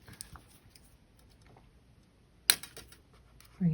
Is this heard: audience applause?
no